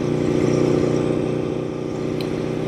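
An Aprilia motorcycle cruising at low speed under a 25 mph limit, its engine a steady, close, continuous drone with a low rumble and no sharp revving.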